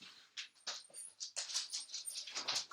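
A teacup Yorkshire terrier whimpering at a door, a string of high, thin whines and yips that turn more frequent toward the end, close and fairly quiet.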